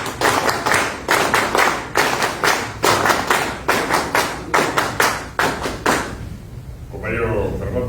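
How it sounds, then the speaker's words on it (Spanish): Audience applause at a party gathering in a Casa del Pueblo, honoring a national secretary; loud, close rhythmic clapping in unison for about six seconds, then fading into a murmur of voices. "Palmas, compañeros, para nuestro secretario nacional."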